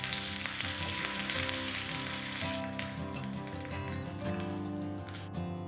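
A tempering of mustard seeds, urad dal, cut dried red chilli and curry leaves sizzles and crackles steadily in hot oil, loud and close, with no talking.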